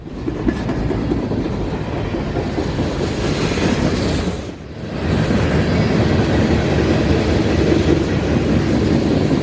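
A freight train rumbles past close by on the W&A line, a loud, steady roar and rattling wheels, dipping briefly midway before the heavy rolling noise resumes.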